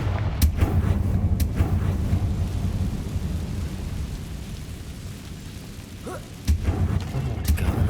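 In Hogwarts Legacy, a Confringo blasting spell sets off heavy, rumbling explosions. A deep boom rolls on for several seconds with sharp cracks at the start, then a second loud blast near the end.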